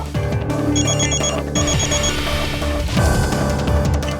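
A telephone rings in an office or factory setting during a drama scene, a repeating electronic ring that comes in bursts over background music.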